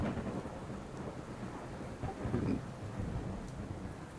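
A steady storm with rain pouring down and low rolling thunder rumbling throughout, a broad wash of noise that swells slightly midway and stays dense and close with no voices.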